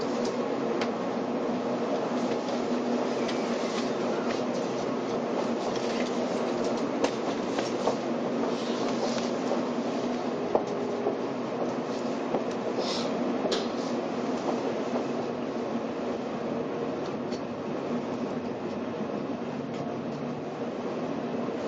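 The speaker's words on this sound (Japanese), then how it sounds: "This is the Kodama Super Express." Steady rumble of a Shinkansen Kodama Super Express bullet train running on rails, heard from inside the 16-car train, a continuous broadband roar with faint clicks and no talk.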